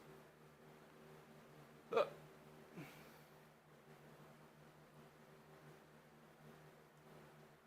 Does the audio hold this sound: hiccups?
yes